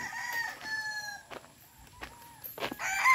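Gamecock stags at a game farm crow in several calls, with shorter clucks and an outdoor background hum; the crows sound moderately near and there is no speech.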